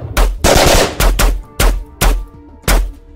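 A PKM machine gun firing loud, close bursts in a firefight, five or six separate volleys of rapid shots broken by short pauses, with no voices.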